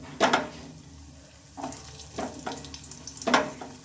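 Chopped carrots drop into hot oil with white cumin seeds in a pan, giving a few short bursts of sizzling and stirring separated by quieter frying.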